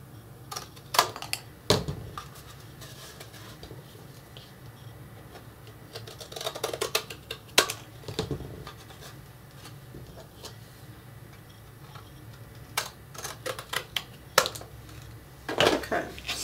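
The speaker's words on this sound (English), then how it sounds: "And we'll accomplish the cutting the gables the same way, giving it a good squeeze, and then just following the line of that gable to with our scissors." Scissors cutting the gables of a paper church model for a Christmas village, sparse sharp snips and small clicks scattered over a quiet room, some in quick runs, with no speech.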